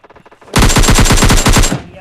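Automatic gunfire from a PUBG Mobile Lite match rattles out in one loud, rapid burst of about a dozen shots lasting over a second, after a few faint softer sounds.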